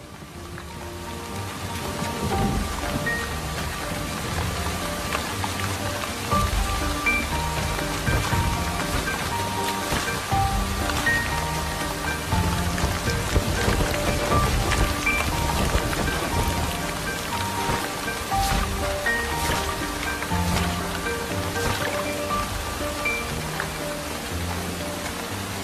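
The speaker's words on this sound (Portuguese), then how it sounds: "a chuva continua caindo." Heavy rain from an enormous storm pours steadily and loudly for the whole stretch, a dense continuous hiss of drops striking surfaces with no break or voices.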